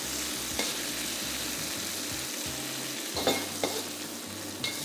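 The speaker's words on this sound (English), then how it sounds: "Fry the salted fish till it's fragrant." Salted fish frying in hot oil in a wok gives a steady, close sizzle with occasional stirring scrapes and a few sharper crackles, with no talking.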